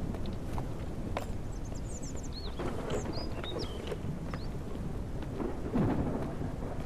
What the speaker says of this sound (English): apparently outside we do have one storm going on